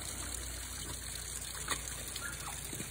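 Water trickles and drips close by, a quiet steady flow with small splashes that swells toward overflowing.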